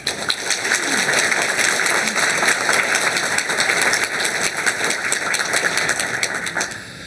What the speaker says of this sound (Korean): 인사드릴 때 앞길을 축복하며 박수 드리시겠습니다